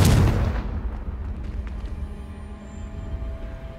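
A Confringo fire spell bursts in Hogwarts Legacy, a loud booming blast at the start that quickly fades into a lingering rumbling tail with faint crackles.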